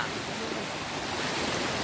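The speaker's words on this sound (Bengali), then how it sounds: "মনে হচ্ছে যে একটি ঝর্ণা।" A dense, unbroken hiss of falling water at Khoiyachra near Chittagong, close and even in loudness, with no voices over it.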